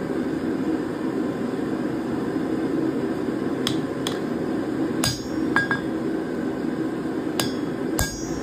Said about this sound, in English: Okay, so I'm gonna go ahead and punch those slots out.